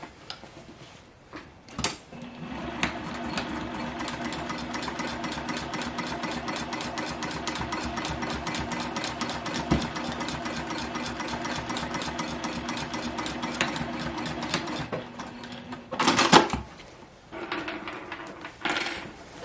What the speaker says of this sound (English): now I'm going to sew right on top of that line.